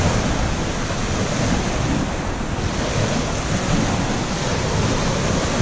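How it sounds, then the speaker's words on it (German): Waves break continuously along the shore of Lake Neuchâtel in rough, choppy water, a steady loud wash of surf mixed with wind buffeting the microphone, with no voices. "ziemlich Wellengang. Man sieht es da ganz schön."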